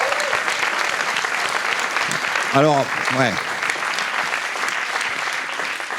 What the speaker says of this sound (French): On peut les applaudir, merci pour cet accueil.